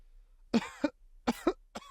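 Harsh, repeated human coughing in two quick double bursts followed by a fifth short cough, close and loud against a quiet background.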